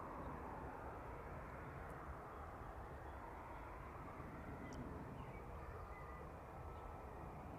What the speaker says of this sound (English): The RVL Cessna on final as well